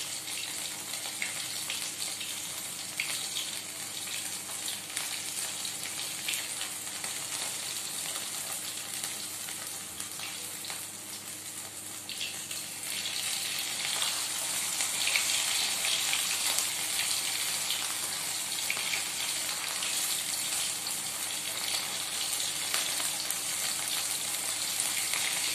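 Sabudana pakora frying in hot oil for Navratri, a steady close sizzle with fine crackling that swells louder partway through and stays dense to the end.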